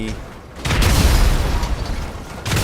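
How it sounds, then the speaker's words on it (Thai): A video-game explosion in GTA Online: after a quiet moment, a loud boom bursts out and rolls into a sustained rumbling tail, followed by another sharp blast at the very end. "ผมจะระเบิดให้ดูเลยก็ได้"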